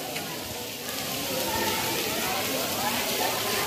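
Steady rain pours down at the Dai Nam amusement park, a broad, even hiss of drops striking surfaces that swells slightly after the first second.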